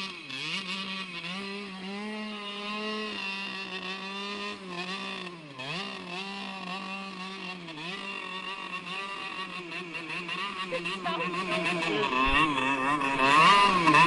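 Shifter kart engine revving hard while driving on thin ice with studded tires, a loud buzzing two-stroke note rising and falling through gears over fourteen seconds, close and continuous.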